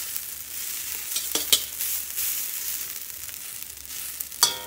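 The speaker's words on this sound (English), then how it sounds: "So the rice is getting nice and toasty. And spread it out so it all can kind of make contact with the pan." Rice for steak fried rice sizzles and toasts in a hot pan, a soft, even crackle broken by a few sharp scrapes and stirring clinks as it is spread out, with no voices.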